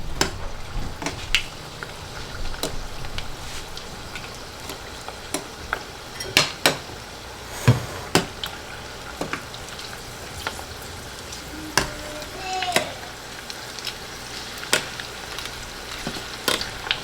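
Mini sesame balls deep frying in hot oil give a soft continuous sizzle, punctuated by sharp clinks and taps of a utensil stirring against the pot, close up and with no talking.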